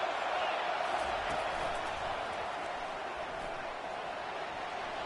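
A packed stadium crowd at a college football game between Texas A&M and Florida roars in a steady, dense wash of cheering that holds at full volume throughout.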